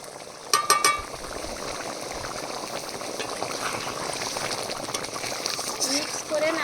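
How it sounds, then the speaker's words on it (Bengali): Gravy for a vegetarian aloo dum bubbling in a pan, a steady low simmering hiss throughout with a few sharp clinks near the start. "এখানে গ্রেভি ফুটে উঠেছে"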